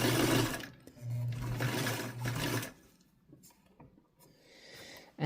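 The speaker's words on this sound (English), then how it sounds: "as you go forward sewing, then you can take your clips out" A sewing machine stitches a boxed cushion dog bed in a couple of short, loud whirring runs close by, then stops, leaving quieter handling noises.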